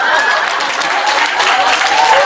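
Audience at a lecture breaks into steady, dense applause that fills the whole moment at close range, with no voices on top.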